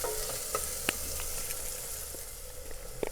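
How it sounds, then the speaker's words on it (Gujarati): Spice masala sizzles in hot oil over a low gas flame, with a steady broadband frying hiss broken by a few sharp scraping clicks of a spoon stirring the pan, close and continuous. "મસાલો એડ કરીને ગેસની ફ્લેમ લો રાખીશું અને મસાલાને આ રીતે હલાવી લઈશું."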